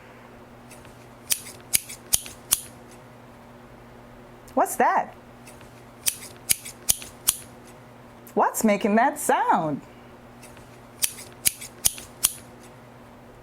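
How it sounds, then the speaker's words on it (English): Scissors snip repeatedly in short, sharp clusters of crisp cuts, close and clear, with two brief stretches of a voice asking a question in between. "It's a scissors."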